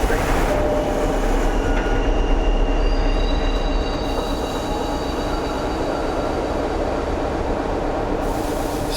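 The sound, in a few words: train arriving at the station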